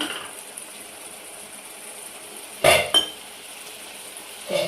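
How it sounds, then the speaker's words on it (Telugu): A lid goes onto a pot of egg gravy curry, with a sharp metallic clank followed quickly by a second one and another lighter clink near the end, over quiet background hiss. "మూత పెట్టుకున్నా."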